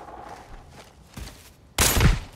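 An AX-50 sniper rifle fires in the shooter game Arena Breakout: one loud, sharp report lands near the end, after quieter faint thumps and movement, with no talking.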